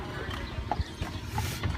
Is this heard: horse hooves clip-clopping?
yes